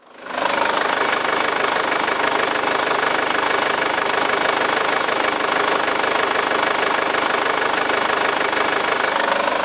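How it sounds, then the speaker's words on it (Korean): A Chevrolet Captiva SUV engine idles steadily and loudly with a constant rumbling hum and light ticking, with no voices. "나가셔서 엔진 소리 한번 들어보도록 하겠습니다"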